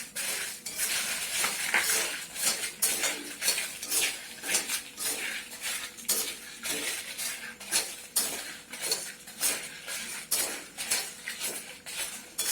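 Red chillies dry-roast in a pan, a run of repeated spatula scrapes and clinks against the metal, close and fairly even, with little sizzle.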